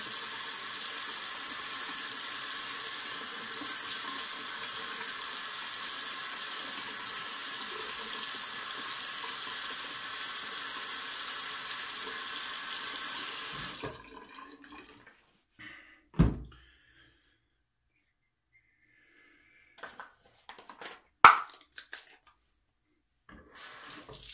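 Water runs steadily from a bathroom sink tap while a face is rinsed after a shave, a constant hiss for about fourteen seconds, then it stops, leaving a few faint splashes, drips and small handling knocks.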